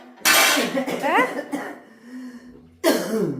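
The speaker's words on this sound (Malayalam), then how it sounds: "ഇപ്പൊ ചുമയുണ്ട്" Two sharp, loud coughs close to the microphone, separated by a pause with a brief bit of voice in between.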